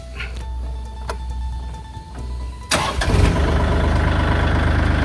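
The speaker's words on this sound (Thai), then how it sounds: "เดี๋ยวเราลองสตาร์ทเครื่องยนต์ดูนะครับ" A Kubota L4018 four-wheel-drive tractor diesel engine idles low and rumbling, then is cranked and fires up into a louder, steady chugging run.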